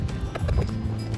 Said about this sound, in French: voilà mon cheval, c'est Bruce, qui est en train de se barrer.